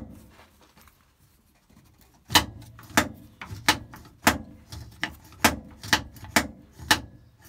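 Primer pump on a small engine pressed repeatedly, producing a series of sharp, close clicking presses at a steady rhythm of roughly one every half second after a quiet start.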